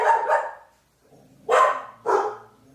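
Dogs bark indoors in a few sharp, separate bursts close by, one quick double bark followed by two single barks after a short pause, with no talking over them.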